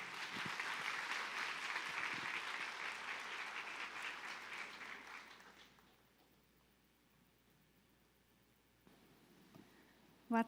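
An indoor audience at an autism talk applauds to welcome a doctor to the stage, dense clapping for about five seconds before it fades into quiet room tone, then a brief bump near the end.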